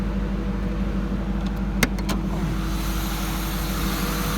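A 2002 Ford Mustang GT with the manual 4.6L V8 idles smoothly with the hood open, a steady low rumble heard close up and alone, broken by a couple of brief clicks midway.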